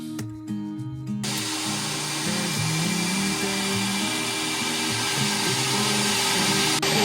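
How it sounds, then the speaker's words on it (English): Air duct cleaning equipment runs inside a house: after about a second, a loud, steady roaring drone like a big vacuum blower starts up and keeps going without a break, with no one talking over it. "we're having people come clean the air ducts in our house"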